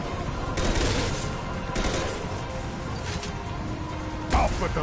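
Gunfire in Mass Effect 2 Legendary Edition, scattered distant shots and bursts popping under continuous game noise, with one sharper, louder crack near the end.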